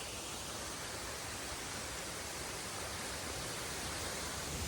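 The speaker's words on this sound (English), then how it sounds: "now, look, we actually have proper waterfalls on our land." Waterfalls rushing across flooded homestead land, a steady, dense roar of falling water that holds at a loud, even level without pause.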